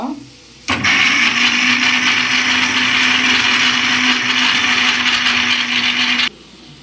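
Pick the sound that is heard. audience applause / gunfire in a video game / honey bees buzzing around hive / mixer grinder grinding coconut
mixer grinder grinding coconut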